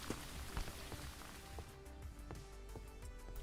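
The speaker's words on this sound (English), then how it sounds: "We got rain." Rain falling in a duck hunting simulator game at night, a constant quiet wash of rainfall with irregular crisp drip and patter clicks over it, no speech.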